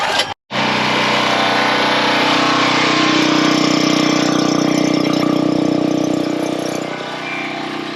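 Champion dual fuel portable generator, running on propane or gasoline and installed in a box truck RV with routed exhaust, starts after a brief gap and runs with a steady loud mechanical hum that eases slightly near the end.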